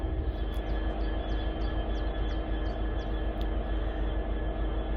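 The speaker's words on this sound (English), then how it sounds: "Here we go then, train from Leeds." Train from Leeds drawing into a platform at Skipton station, a steady broadband rumble of engine and wheels holding level throughout, with faint high squeals and chirps above it and no talking.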